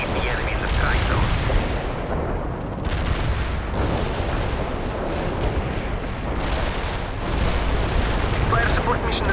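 An artillery barrage lands in the World in Conflict strategy game as a dense, continuous roar of overlapping explosions and booms, loud and sustained throughout.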